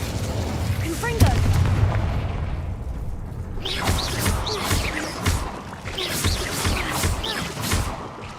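Explosive Confringo spell bursts in Hogwarts Legacy, a few heavy booms and whooshing blasts with crackling impacts over game ambience, loud and close, with a voice calling out spells among them.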